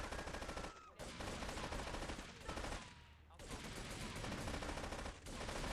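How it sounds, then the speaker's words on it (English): Assault rifle fire in GTA 3 Definitive Edition rattles in long, dense automatic bursts with a few short breaks between them, loud and close and mostly continuous. "didn't realize I get an assault rifle that's got, like, infinite ammo"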